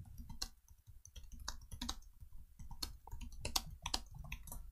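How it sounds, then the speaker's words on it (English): Rapid, irregular clicking of computer keyboard keys pattering in short bursts, close and fairly quiet, with no voices. "I'm sorry, I was typing."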